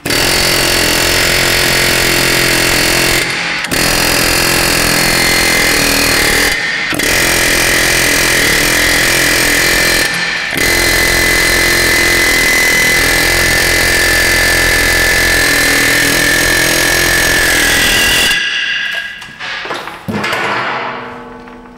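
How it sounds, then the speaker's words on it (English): A loud, rapid pneumatic air hammer runs close up in long bursts on a Toyota Sienna front brake hub, broken by a few brief pauses, before cutting off near the end. "Grab the air hammer."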